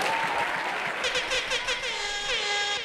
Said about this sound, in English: Please put your hands together for yourself.